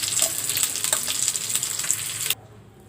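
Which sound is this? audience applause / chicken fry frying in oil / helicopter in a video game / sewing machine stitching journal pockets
chicken fry frying in oil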